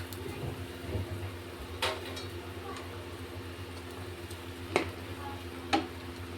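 Chapati pieces tumble into a pot of boiling water and get stirred, with soft scraping and bubbling plus a few sharp clinks of a utensil against the pot.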